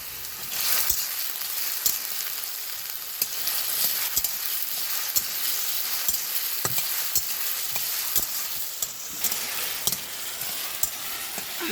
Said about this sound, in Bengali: নুনটা দিলে আলুটা তাড়াতাড়ি ভাজা হয়ে যাবে